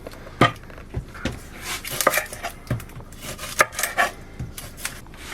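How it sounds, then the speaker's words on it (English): A knife finely chopping onions on a board in a narrowboat galley while making Cornish pasties: crisp, irregular taps and knocks, close and clear, with no one talking. "You need to chop it up quite fine, the onions."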